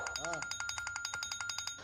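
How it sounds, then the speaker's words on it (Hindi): A phone ringing in a home, with a rapid, steady electronic trill of repeating pulses throughout, close and fairly loud, while a voice briefly speaks at the start. "बेटा फोन बज रहा है, उठा लो"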